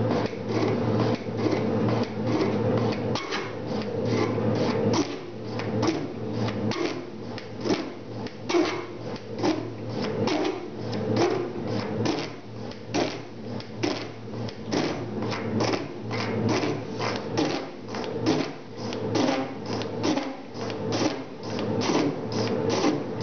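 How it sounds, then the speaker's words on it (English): Small metal shaping machine cuts a groove in cast iron at 60 strokes a minute, taking heavy half-millimetre cuts; loud repeated rhythmic clunks and scraping strokes continue steadily throughout, close up. "This little machine really don't like these heavy cuts, and the cutting speed is way too high"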